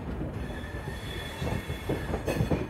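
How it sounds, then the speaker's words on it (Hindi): Intercity Express 12460 pulling into New Delhi railway station, a steady low rumble of rolling railcars with wheel noise and a faint squeal, swelling slightly near the end. "दोस्त अराइव कर रहे हैं नई दिल्ली रेलवे स्टेशन पे।"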